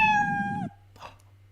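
A stock cartoon cat meow sound effect from the Scratch coding environment plays once, clear and close, a single drawn-out tonal meow lasting over half a second, followed by a faint soft noise.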